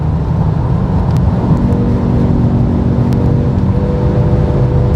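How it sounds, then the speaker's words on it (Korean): A Genesis G70 2.0T sedan engine runs at 6000 rpm, a loud, steady whirring drone with a rising tonal hum from inside the cabin, continuous and close. "6000rpm에서의 엔진 사운드가 이 정도입니다"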